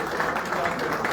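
Audience applause at an event honouring Wenge Musica artists and widows, a steady broadband patter of clapping that fills the whole short stretch at moderate level, with some crowd voices mixed in.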